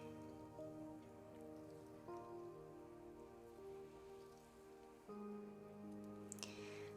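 Soft rain patters steadily in the background beneath quiet sustained tonal sounds, gentle and continuous, with no voices.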